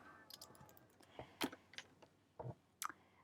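Someone types on a computer keyboard while naming a file, giving sparse, irregular clicks and a few sharper key taps, quiet and close, with no talking.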